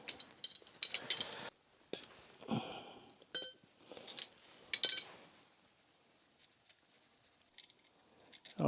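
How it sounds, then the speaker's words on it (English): A nozzle is removed from an oil boiler burner with a tool, producing scattered close metallic clinks and small scraping taps, followed by several seconds of quiet. "And what we're going to do is remove this nozzle."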